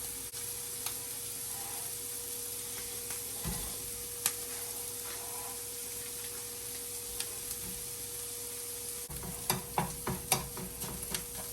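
Jimmy Dean pork sausage browns in a pan with a faint, steady sizzle under a low hum, broken by scattered light ticks and a brief cluster of utensil clicks near the end.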